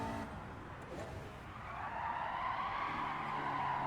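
A car skidding and spinning out on a corner during a national B license test in Gran Turismo 7, a tire squeal that starts faint and swells into a steady, rising screech with engine noise underneath.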